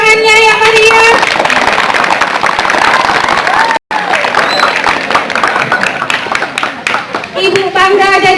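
Lively applause and clapping from a school crowd at a National Teachers' Day ceremony, dense and continuous for several seconds with a brief break, mixed with crowd noise and background music tones.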